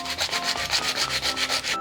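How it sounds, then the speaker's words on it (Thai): A pine wood plug is sanded by hand with sandpaper in steady, rapid back-and-forth rubbing strokes, close and loud, with about eleven even strokes and no voices. "แล้วเราก็เอากระดาษทรายมาขัด"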